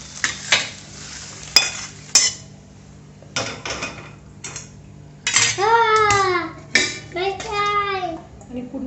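Okra clinks and scrapes against a pan as it is stirred and fried, a busy run of utensil knocks with a soft sizzle beneath and a voice chattering over parts of it.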